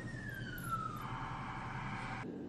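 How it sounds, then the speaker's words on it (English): A wailing siren sweeps downward in pitch, steady and moderately distant, over a constant low rumble of traffic. "Those sirens as if on cue."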